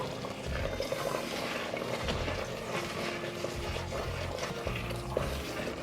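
Hot water is poured into simmering Ethiopian shiro, a low sustained splashing and bubbling pour lasting several seconds, nearby and moderately loud, with no talking.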